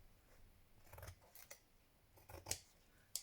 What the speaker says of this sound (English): trim that up there